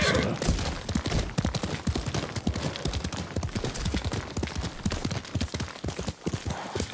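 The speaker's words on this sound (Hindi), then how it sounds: "चलो अपने घोड़े पे सवार होकर चलते हैं अब यहाँ से।" A horse gallops across open ground in the video game Ghost of Tsushima, its rapid, steady hoofbeats loud and close under wind and ambient game sound.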